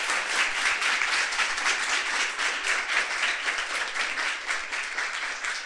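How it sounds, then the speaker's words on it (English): An audience gives a sustained round of applause for student panelists after a finance panel, steady dense clapping that holds at an even level throughout without speech. "Please, big round of applause."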